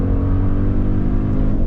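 An Audi RS Q8 Performance SUV with a 640 hp engine accelerates hard on a race track, giving a loud, continuous, close engine roar with rich low harmonics throughout a short burst.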